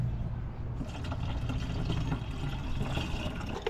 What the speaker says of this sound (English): Then I'll pour the rest in the reservoir.